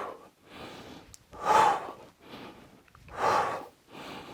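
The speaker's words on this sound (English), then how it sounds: "Inhale back, exhale up, switch." Heavy rhythmic breathing during alternating kettlebell swings, close inhales alternating with two louder forceful exhales at steady intervals.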